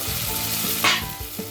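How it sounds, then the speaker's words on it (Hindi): Masala-coated eggplant pieces sizzling in a frying pan with potatoes, a constant close hiss with a sharp burst of spitting as pieces drop in, then light clinks and crackles. "अब हम ये जो बैंगन मसाला लगा के रखा था ये हम डाल देते हैं"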